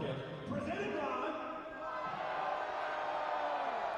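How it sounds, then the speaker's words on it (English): A soccer crowd at a Union Omaha versus Westchester SC match roars in a continuous wash of excited cries and cheering, with a commentator talking over it. "Cries of the crowd."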